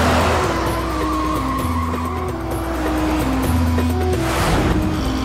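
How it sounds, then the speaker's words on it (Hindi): Loud, continuous tire skidding and engine roar from a water tanker truck approaching on a road, with the squeal wavering throughout. "पानी वाली गाड़ी आ रही है"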